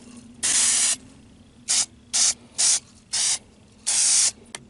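Aerosol can spraying hammered black paint onto a truck's interior dash panel, six separate hissing bursts of varying length with brief silent gaps between them, close and clear with no talking.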